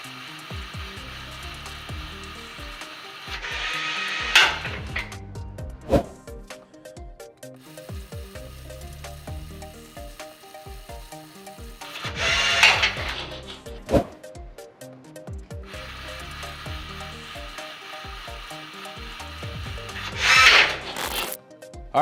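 An Atlas Copco power tool in a lab tightening a fastener at high speed, giving three separate loud bursts of whirring rundown, each ending in a sharp clunk, with quieter mechanical noise in between.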